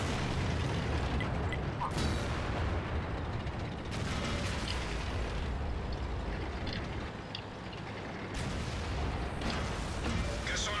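Artillery shell explosions in World of Tanks around an E100 heavy tank: repeated heavy booms and bursts over a continuous rumbling battle background, a few sharp impacts standing out.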